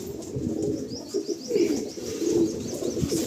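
Male Andhra high-flying pigeons, a white Regdar among them, give a run of close, rumbling coos in uneven pulses. Faint chirps flicker in the background and nobody talks.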